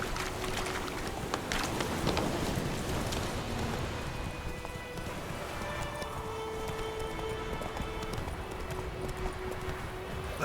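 Roach the horse's hooves in the video game The Witcher 3 give a steady rhythmic clip-clop of trotting, mid-distance, over ambient outdoor sound and faint musical tones.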